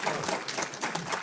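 Audience applause breaking out at a talk, a dense and steady wash of many hands clapping together, moderately loud and sustained with no voices on top.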